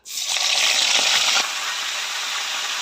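Pieces of golden chicken for roast dropped into hot oil, a sudden loud hiss and sizzle that eases after a second or so into steady frying.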